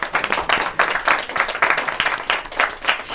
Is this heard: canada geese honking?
no